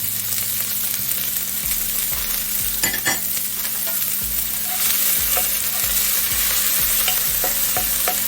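Garlic, thyme and Scotch bonnet pepper sauté in a pot with scallion and onion, giving a loud steady sizzle close up, punctuated by light scrapes and taps of stirring.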